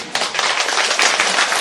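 Church congregation at a seminar in Beijing breaking into applause, a dense, loud wash of many hands clapping close by, steady throughout the short stretch with no talking.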